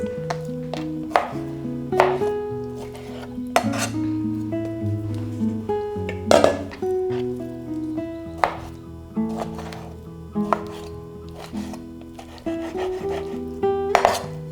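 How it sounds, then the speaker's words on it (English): A knife dices chicken thigh into small pieces on a cutting board, giving a run of sharp, close chops at an uneven, steady pace over soft background music, with no talk. "So we're gonna cut them into small dice."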